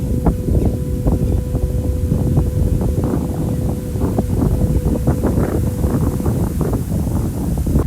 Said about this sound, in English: there's a lot of wind going on